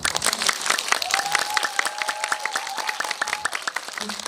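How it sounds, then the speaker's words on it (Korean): An audience at an occult-themed screening night claps together, a dense run of overlapping hand claps at close range lasting the whole stretch, with a faint tonal whistle or voice sound partway through. "오늘 여기 박수 한번 쳐주세요."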